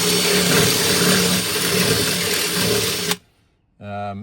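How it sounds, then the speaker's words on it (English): A drill bit augers out a hole in a van panel, a loud steady high-pitched whine grinding for about three seconds, cutting off, then a brief restart of the motor. "I'm gonna see if I can auger that out a bit."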